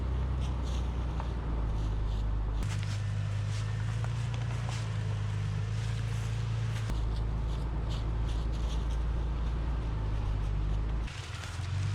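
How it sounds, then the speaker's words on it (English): A stock Jeep Cherokee XJ on regular all-season tires crawls off-road in four-wheel drive, its steady low engine drone heard from inside the cab, with faint rattles and bumps over rough ground and no talk. "today we're gonna take this Jeep and do some light off-roading to see what a stock XJ can do"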